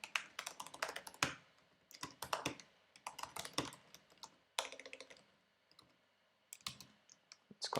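Quick bursts of close computer keyboard typing entering a name, crisp clicking keystrokes in short runs separated by brief pauses, fairly quiet with no voices.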